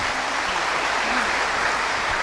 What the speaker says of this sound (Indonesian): Baik, berikan tepuk tangan semuanya.